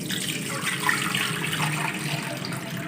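Water is poured into a kadhai on the stove to steam an eggless custard bread pudding: a steady, close splashing rush that lasts the whole time with no voices.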